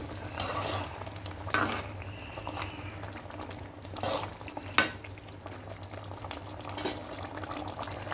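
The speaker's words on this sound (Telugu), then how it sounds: "ఇప్పుడు కొంచెం పులుసు మరిగింది. ఇప్పుడు వేసుకుందాం ఇందులోనే పునుగులు." Pesarattu-style punugulu fritters simmering in a boiling tamarind gravy, giving a soft, steady bubbling and faint sizzle with occasional light stirring scrapes and small splashes, close and quiet with no talk.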